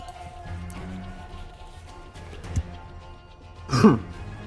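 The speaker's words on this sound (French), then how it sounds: "Pardon, excusez-moi, j'arrête pas de tousser." A single rough cough near the end, close by, following a stretch of quiet room noise with a faint click midway.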